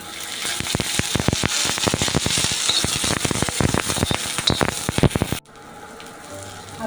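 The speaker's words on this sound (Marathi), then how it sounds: "त्याच्यामध्ये आपण आता ही मिरची आलं आणि लसूण पहिलं थोडंसं भाजून घ्यायचं आहे" Green chillies, ginger and garlic roast on a hot tawa with a little oil for a Malvani chicken dish, giving loud, bursting sizzles and sharp crackles that pop repeatedly, then cut off abruptly into a quieter hiss.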